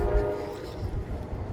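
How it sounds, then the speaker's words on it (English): A train rumbles along the track with a low steady drone and a horn-like tone, heard briefly at moderate distance. "We got the train coming up the track."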